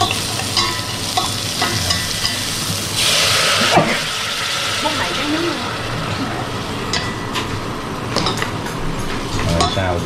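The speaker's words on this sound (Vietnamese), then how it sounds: "Rồi xào chủ yếu là cho cái gia vị xả, gừng, tiêu, nó hòa quyện với nhau" Lemongrass, ginger and pepper seasoning stir-fry in a pan with a loud, steady sizzle and the scrape of stirring, with a brief surge of hissing partway through and voices talking underneath.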